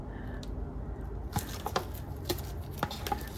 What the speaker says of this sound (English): Let me see if I can get it by scraping down here.